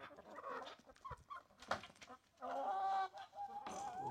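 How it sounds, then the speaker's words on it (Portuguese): Farmyard chickens cluck and squawk close by while waiting to be fed corn, a busy run of short calls and drawn-out cackles. "As galinhas já ficam esperando já o milho."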